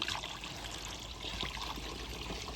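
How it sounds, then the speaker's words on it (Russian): Water is poured through a funnel and ladle from a roadside water source into a 5-liter bottle, a continuous soft trickle and splash heard close by with no talking. "Водичку набираю в дорогу."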